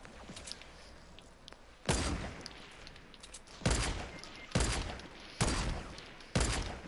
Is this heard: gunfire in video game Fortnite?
yes